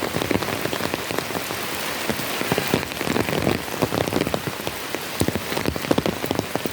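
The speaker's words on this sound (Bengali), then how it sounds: "দেখুন, বৃষ্টিতে একদম সাদা হয়ে যাচ্ছে চারিদিক।" Heavy monsoon rain pours steadily onto a village road, a dense, loud, continuous hiss with many close drops spattering throughout and no voices.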